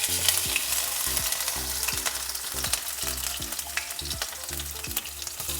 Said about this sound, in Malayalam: ചൂടായി കടുക് പൊട്ടുന്നു